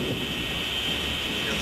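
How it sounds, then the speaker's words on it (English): Thunder rumbling through a simulated thunderstorm during a flight, a steady, dense roar with broad hiss and low rumble that holds without pause for under two seconds. "we're going to be experiencing some turbulence and flying through a small thunderstorm"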